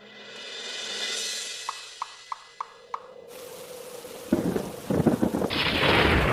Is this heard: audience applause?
no